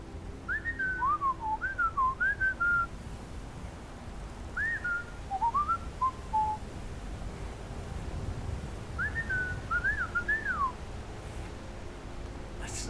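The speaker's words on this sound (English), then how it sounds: "I know that whistle." A non-player character in Skyrim whistles a melodic tune in three short phrases separated by pauses, clear and moderately close over a soft ambient background.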